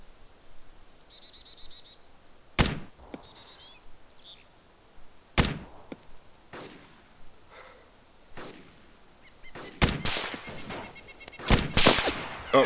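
Gunshots in Arma 2 DayZ ring out as several sharp, loud cracks spaced across the stretch, then denser clustered fire near the end, with quieter background noise and faint chirping between shots.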